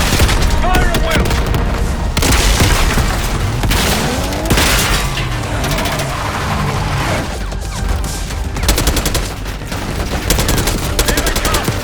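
Dense gunfire fills a Call of Duty: Black Ops 6 firefight, rapid automatic bursts, single shots and heavy booms layered loudly and continuously, with voices shouting underneath.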